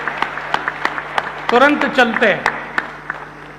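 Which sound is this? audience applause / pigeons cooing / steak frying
audience applause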